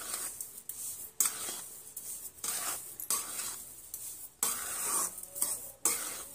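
A spoon scrapes and clinks against a pan while sugar is stirred into sheera, an Indian semolina sweet, in bursts of metallic scraping separated by short pauses, close and moderately quiet.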